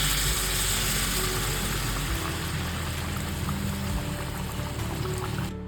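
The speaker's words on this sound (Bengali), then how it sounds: "চিকেনে এবার আমি গরম জল অ্যাড করে দেবো।" Hot water pours into chicken korma simmering in a pan, a loud continuous rushing splash that holds steady for several seconds and cuts off abruptly at the end, with no talking.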